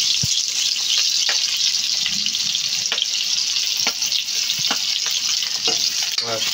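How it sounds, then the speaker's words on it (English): Chopped onion fries in a pan on a home stove for a jungle mushroom dish, giving a loud, steady, close-up sizzle with occasional sharp clicks and scrapes from stirring. "First, we need to cook the onion until a little bit brownish."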